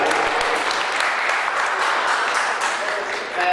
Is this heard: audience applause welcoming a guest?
yes